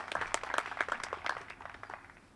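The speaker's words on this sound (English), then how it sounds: "Some claps from the gallery as they now begin to gather." A small gallery claps at a disc golf round of the Estonian Open, a short scattering of handclaps that thins out and fades over a couple of seconds.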